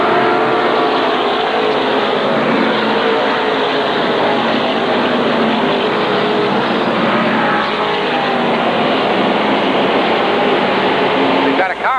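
SK Modified race cars run side by side on the 1/3-mile oval at Waterford Speedbowl, a dense, constant roar of several engines filling the air throughout while a commentator talks over the field.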